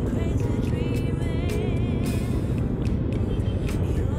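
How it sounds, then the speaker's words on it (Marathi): A big truck or tempo passes on the road during a Mumbai to Kolhapur ride, heard as a continuous heavy engine drone and road noise with faint tonal whine, steady and close. "ट्रक आला, ट्रक, बाबा एवढे मोठे मोठे टेम्पो ट्रक घेतात"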